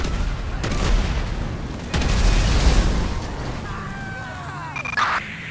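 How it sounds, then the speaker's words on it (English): A vehicle explodes in the open-world game Grand Theft Auto V, with loud booms and crackling blasts rising and falling over a few seconds, followed by scattered ringing debris and high whistling tones. "Citizens reporting a vehicle explosion on Palomino Avenue"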